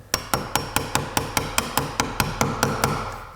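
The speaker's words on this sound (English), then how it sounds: "I'm just gonna take a small chisel" A small chisel struck repeatedly with a hammer to cut a tab off a replacement window, about fourteen sharp, evenly spaced taps close by with no talking.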